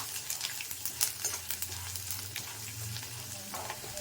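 Garlic fries in a hot pan with a steady crackling sizzle and occasional sharp pops, close and continuous.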